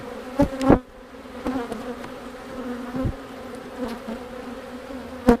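Honey bees buzz steadily around a split hive, a continuous close drone with occasional louder passes as individual bees fly near, plus a few knocks and handling noises.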